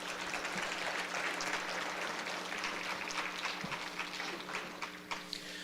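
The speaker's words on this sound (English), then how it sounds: "A round of applause," Steady applause from a live audience for two teams at a scholarship quiz competition final, a dense continuous patter of many hands clapping throughout.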